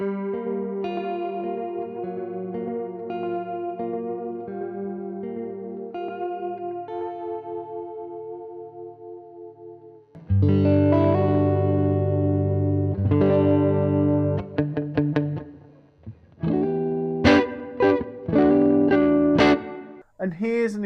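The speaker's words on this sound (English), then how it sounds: "Here's an example of the chorus." Electric guitar played through an analog delay pedal set to its chorus mode: shimmering sustained chords and arpeggiated notes, then louder strummed chords with sharp, choppy stabs toward the end, all close and prominent.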